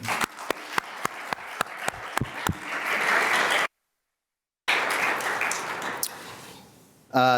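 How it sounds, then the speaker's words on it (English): An audience at a swearing-in ceremony breaks into a round of applause, starting with a few separate claps that swell into steady, dense clapping, broken by a sudden silent gap before the applause resumes and fades. "please give them a round of applause that they can see and hear remotely"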